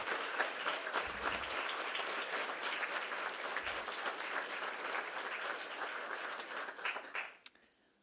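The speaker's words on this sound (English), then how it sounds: "Would you give them all another round of applause?" An audience at a spring student speech showcase gives sustained applause for the speakers, steady and fairly distant, then it cuts off abruptly near the end.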